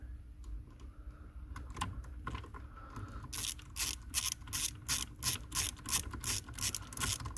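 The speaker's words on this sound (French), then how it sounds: "On va resserrer le boulon de 10." A ratchet tightens a 10 mm bolt on a Peugeot or Citroen during a steering column switch replacement, giving a fast run of loud, even clicks in the second half after quieter handling noises, with no talk.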